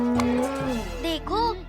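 A cartoon buffalo lets out a mooing call with rising and falling pitch, close and fairly loud, over faint background music.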